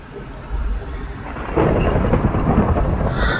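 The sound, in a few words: thunder and lightning in video game Minecraft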